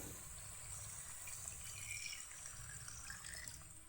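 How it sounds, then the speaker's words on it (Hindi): Steady rushing water pours continuously into a pot of fried chicken and potatoes, a constant broadband hiss with low gurgling underneath, close and fairly quiet, no voices. "अब मैं इसमें पानी शामिल कर रही हूँ।"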